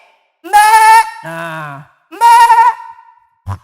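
A voice imitates a goat with two loud, wavering bleats separated by a lower groaning call, followed by a short spoken word at the end.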